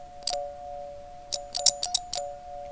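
A toy doorbell ringer rings with a few short, bright metallic dings, one early, then a quick cluster of four or five, close and clear over a faint steady hum.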